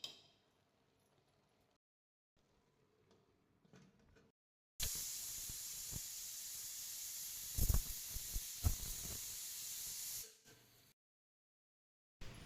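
A pressure cooker of soya pulao with ghee on top lets off one loud, steady hissing whistle for about five seconds, with a few clinks, after quiet faint kitchen noise.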